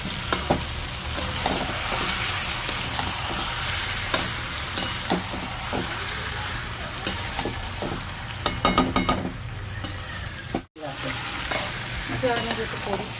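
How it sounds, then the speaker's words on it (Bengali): Chicken with potato and tomato fries in a pan, making a steady close sizzle throughout, with repeated scraping stir strokes and a brief dropout near the end. "বন্ধুরা চিকেনটা পুরো কষা হয়ে গেছে, মাংসটা কষা হচ্ছে এরকম করে দেখো"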